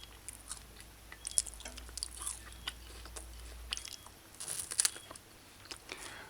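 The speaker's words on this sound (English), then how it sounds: "I just chew off the soft part" Soft, close chewing and biting of jerk chicken stew pulled off the bone, with wet crunches and squishy bites coming in irregular bursts, quiet and with no talking.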